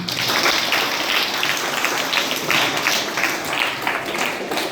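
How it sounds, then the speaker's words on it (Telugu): Dense, steady applause from a crowd of high school students fills the room, continuous and fairly loud throughout with no break. "ఒకసారి చప్పట్లు కొట్టండి"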